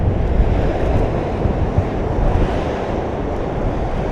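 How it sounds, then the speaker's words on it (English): Waves crash against the rocky Welsh coast near Abermawr in thick mist, a loud continuous surging roar mixed with wind rumbling on the microphone, with no voices. "Just the waves crashing in the mist."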